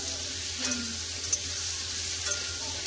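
Potatoes and pumpkin frying in oil seasoned with asafoetida for a potato-pumpkin curry, a steady soft sizzle with a few light stirring scrapes, close and fairly quiet.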